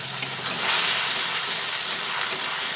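Mustard paste and chopped green chilli fry in hot oil for a flat-bean dish, giving a steady, close sizzling hiss with faint stirring throughout and no voices.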